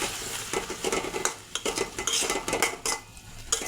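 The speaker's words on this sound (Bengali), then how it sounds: "এখন মশলাটা ভালো করে কষিয়ে নেব।" Spice masala with salt, coriander powder, chili powder and a little water is stirred and sautéed in a pan for a fish and potato curry, with busy scraping and clattering of a utensil over a soft sizzle, close and continuous.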